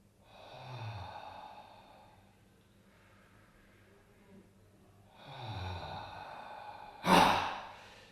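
Deep breaths in and out through the mouth during a somatic grounding exercise, two long slow exhales a few seconds apart, close and soft, followed by a sharp louder gasp or huff near the end.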